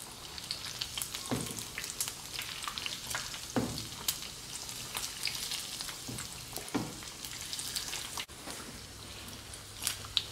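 Crispy skin-on pork belly fries in a pan of hot oil, giving a steady close sizzle with brief louder crackling spurts as the pieces are turned over.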